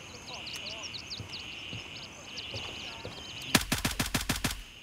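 Rapid burst of about eight sharp gunshots from M85 ammunition in the tactical shooter Gray Zone Warfare, loud and close, coming after several seconds of quiet background ambience with faint chirping tones.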